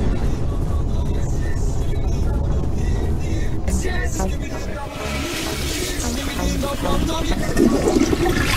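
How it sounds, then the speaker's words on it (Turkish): A toilet flushes in a Skibidi Toilet horror escape game, a loud sustained rushing gurgle of water mixed with game sounds and some voice, swelling toward the end. "Sifonu zor çekti."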